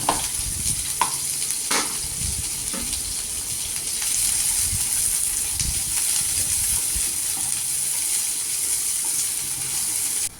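Steady sizzling of finely chopped onions frying in a hot pan, with occasional stirring scrapes and clinks over the constant hiss.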